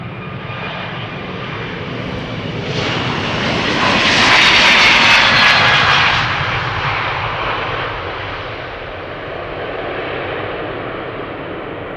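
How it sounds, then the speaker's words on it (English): A JetBlue Airbus A321neo departs Amsterdam Schiphol for New York JFK. Its engines build to a loud, rasping roar with a whining edge at the peak, then recede and linger as a broad rumble, with no voices. "JetBlue on its way to New York,"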